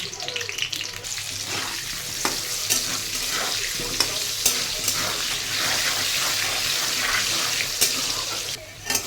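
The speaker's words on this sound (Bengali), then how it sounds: "তেলটা গরম হয়ে গেছে, আমি আলুগুলোকে ফ্রাই করে নেব নুন হলুদ দিয়ে।" Potatoes fry in hot oil seasoned with salt and turmeric, a steady close sizzle with occasional stirring clatter and scraping, continuous and fairly loud.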